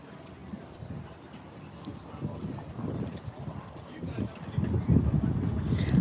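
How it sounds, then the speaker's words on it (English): Wind buffeting a microphone beside a river at a busy boating spot, a low rumbling roar that swells and gusts louder toward the end, with talk likely underneath. "it is very noisy here, very windy here"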